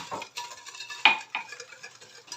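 Orange or mandarin juice being stirred into a dough mixture in a bowl, with soft scraping strokes and a sharper clink of a utensil against the bowl partway through, close and alone.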